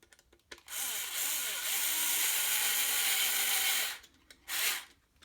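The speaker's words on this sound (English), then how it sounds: "And just screw that in" A power screwdriver whirs steadily for about three seconds, driving a thin screw into a plastic toy blaster, then a short second burst follows after a brief pause.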